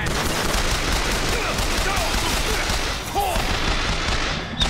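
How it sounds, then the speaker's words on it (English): Volley gun firing in BioShock Infinite amid a dense, loud barrage of blasts and crackling explosions that churns continuously, with a player speaking briefly over the noise. "someone has a volley gun"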